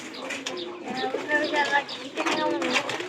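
Several pigeons, local domestic birds kept in a backyard loft, coo and call close by in a lively overlapping chorus, with someone talking over them throughout.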